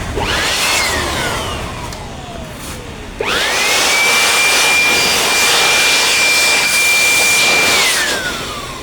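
A brand new electric blower clears dust from a decade-old desktop PC. A loud, high jet-like whine sweeps down, cuts out briefly, then surges back, holds steady for several seconds and winds down at the end.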